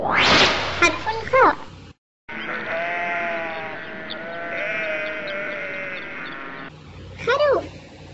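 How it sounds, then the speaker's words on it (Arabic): A sheep lets out a long, wavering bleat, close and clear, between short spoken words before and after. "خروف."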